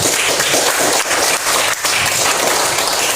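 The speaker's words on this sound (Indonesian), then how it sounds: "Tepuk tangan dulu untuk anak-anak ini semuanya" Loud, close classroom applause for schoolchildren, a dense burst of many hands clapping together that stays steady and unbroken throughout.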